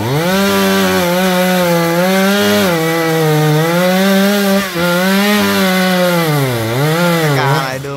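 A chainsaw cuts through a sugar palm tree near a house and power lines, its loud engine snarling steadily and wavering in pitch as it bites into the trunk for the whole stretch.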